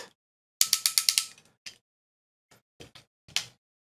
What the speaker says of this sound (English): Springy ratchets on the shoulders.